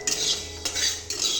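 Black mustard seeds dry-roasted in a hot, dry wok, with three rapid scraping stirring strokes of a metal spoon against the pan, close and loud, no talking.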